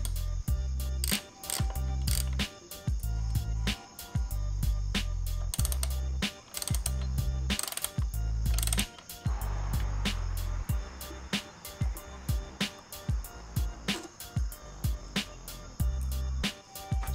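Rapid ratchet clicks from a hand wrench undoing bolts on a Ducati Streetfighter V4 motorcycle during an air filter change, coming in repeated close bursts with short pauses between them and no talking.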